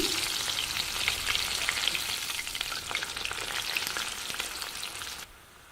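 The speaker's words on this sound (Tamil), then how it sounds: "பூண்டும் நல்லா வறுபட்டுருச்சுங்க" Crushed garlic frying in hot oil for a homemade mixture snack, a steady close sizzle with crackling pops and occasional stirring, running nearly six seconds before cutting off abruptly.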